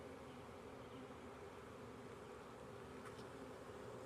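A honeybee swarm buzzing in a dense, continuous drone close by, with plenty of drones among the bees, steady and unbroken throughout with no voices.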